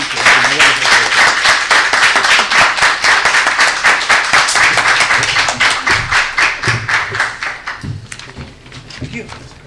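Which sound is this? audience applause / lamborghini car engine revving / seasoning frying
audience applause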